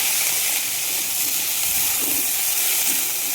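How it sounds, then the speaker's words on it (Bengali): Paneer frying in a pan gives off a steady, close hiss and sizzle of hot oil that stays even and continuous throughout. "পনিরগুলো এখানে ভেজে নিচ্ছি"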